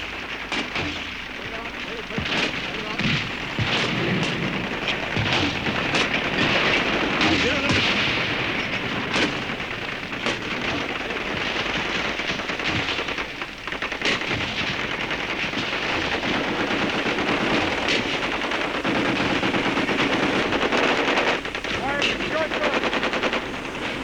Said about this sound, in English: The bombardment lasted a full hour.